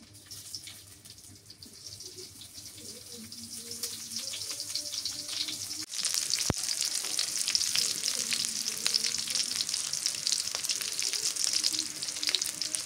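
Chopped onion dropped into hot oil for a boal fish curry, a soft hiss swelling into a steady, close sizzle with a sharp clatter midway and faint kitchen noises beneath.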